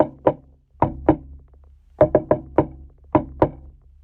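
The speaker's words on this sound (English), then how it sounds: "Daddy comes to wake me up with our secret knock." Knocking on a bedroom door in a rhythmic secret pattern of doubled raps, about ten crisp, close knocks in paired groups with short pauses, no voices.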